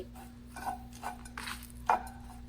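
Red chillies, coconut and curry leaves being stirred and dry-roasted in a pan for sambar, with soft scraping strokes of a spoon and a few light metallic taps over a quiet background hum.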